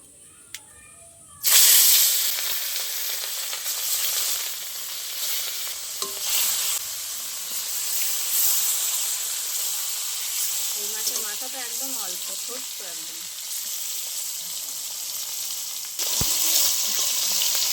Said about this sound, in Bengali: একই তেলে সব মাছগুলো ভেজে নেবো